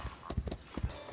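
Horse hooves clip-clopping in the video game Foundations as a horse arrives, a steady run of close, distinct hoof strikes in an even walking rhythm.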